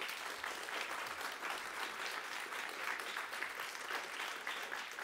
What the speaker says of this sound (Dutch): Misschien nog 1 ronde applaus daarvoor.